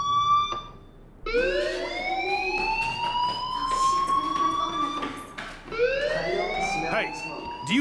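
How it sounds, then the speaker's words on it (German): In the video game Life is Strange, a fire alarm sounds as two loud rising electronic wails that sweep upward and hold, with a voice speaking underneath. "Hey, do you hear that fire alarm? That means you should be outside."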